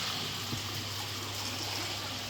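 Water from a K1 filter chamber in a pond setup splashes and trickles steadily, a dense, even hiss that stays constant throughout with a faint low hum beneath.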